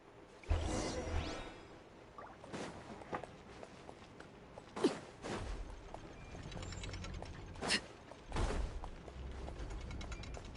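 A clockwork socket mechanism turns in the video game Genshin Impact with ratcheting clicks and grinding gear sounds. A few louder clunks stand out over a soft mechanical whirr, and no one talks.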